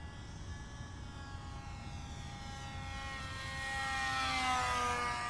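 A green 3D-printed Craycle Cub RC airplane flies overhead, its electric propeller motor producing a steady, moderately distant whine that swells in pitch and loudness toward the end.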